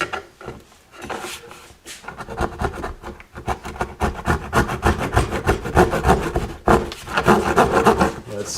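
Hand saw cutting out a rib on a Ducati ST4 frame or bodywork, a steady rasping stroke repeated in a quick rhythm over several seconds, close and fairly loud with no talking.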